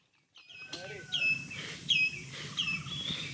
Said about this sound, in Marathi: या गार वातावरणात पक्ष्यांच्या अशा मधुर आवाजात काम करायला कोणाला नाही आवडणार